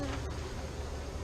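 Honey bees hum in a steady close buzz as frames are handled during a hive inspection, fairly soft, alone without talk.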